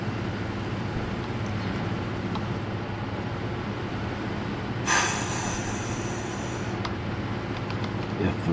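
A train in the factory-building game Satisfactory rumbles along its rail in a continuous low drone, with a brief metallic hiss or screech rising midway and fading.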